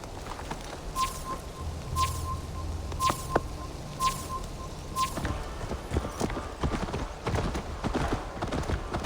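Horse hooves clip-clop at a steady, even pace in Assassin's Creed Valhalla, moderately close, with light ambient game sound underneath.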